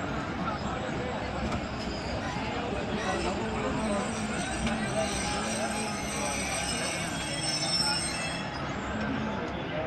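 Passenger train pulling into a railway junction in Pakistan, with steady loud rail rumble and a continuous metallic wheel squeal running through the whole stretch, close and unbroken.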